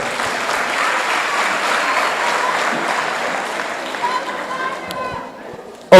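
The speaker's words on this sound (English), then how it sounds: "A round of applause for our scholarship board." Audience applause at a youth conference, broad sustained clapping from a crowd that fades out near the end.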